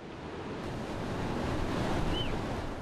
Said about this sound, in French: Le courant est très fort et les vagues très proches les unes des autres.